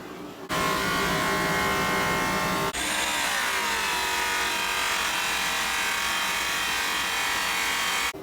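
A rotary buffer polishes a semi truck wheel on a trailer. A loud, steady high-pitched motor whir starts abruptly, then shifts to a slightly different pitch partway through and runs on close and unbroken with no talking.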